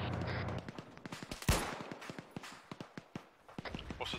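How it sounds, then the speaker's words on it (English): Video game gunfire comes from a bunker as a string of sharp, fairly quiet shots in an irregular rapid rhythm, one louder burst standing out, with no talk over it. "Incoming fire from the bunker."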